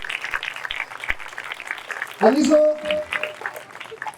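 An audience applauds guests at a church event, the clapping running under a man's amplified speech and rising in a short, louder burst midway.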